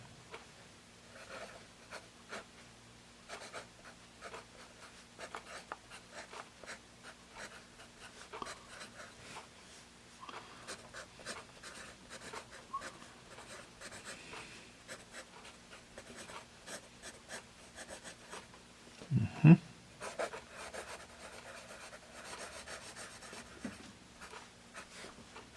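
A Staedtler Norica 2HB pencil with a factory-sharpened point scratches on paper in quiet, irregular strokes for nearly half a minute, with a brief louder rustle of handling near the end.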